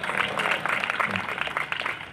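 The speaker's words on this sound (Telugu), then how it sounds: "గట్టిగా చప్పట్లు కొడదాం." A congregation claps loudly together, a dense burst of overlapping hand claps heard from within the crowd, sustained for a couple of seconds at moderate level.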